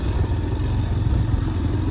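A motorbike engine runs steadily and close by during a night-time bike race, a low, continuous throbbing rumble with no talking over it.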